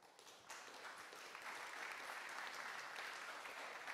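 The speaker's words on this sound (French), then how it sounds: "Parfait, merci, on peut l'applaudir." An audience at a talk on energy performance contracts and building renovation breaks into applause, a faint but steady wash of many hands clapping that swells slightly after the start and holds.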